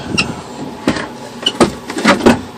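A Roadtrek camper van door latch locking shut, several short sharp clicks and clunks close by, spaced irregularly over a couple of seconds, with no talk.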